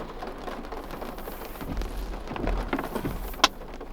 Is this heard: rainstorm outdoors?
yes